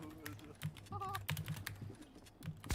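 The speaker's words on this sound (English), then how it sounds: "Whose keyboard am I hearing?" Clicky keyboard typing heard during a Fortnite FNCS Solo Championship watch party: quick irregular key taps at close range, mixed with game sounds and low background chatter.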